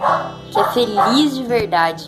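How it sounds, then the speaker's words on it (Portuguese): Neighbourhood dogs bark in short, loud, repeated yaps and yips over someone speaking Portuguese, several barks overlapping her voice across two seconds. "E me perdoa pelos cachorros do vizinho, tem muito cachorro aqui."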